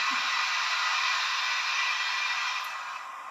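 A steady, loud hiss of escaping steam from a Hornby model train's cylinder cock sound effect runs continuously, broad and airy, fading slightly toward the end, with no voices.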